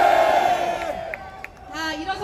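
A political rally crowd shouting and cheering in unison, a loud collective roar that fades and then rises again briefly near the end.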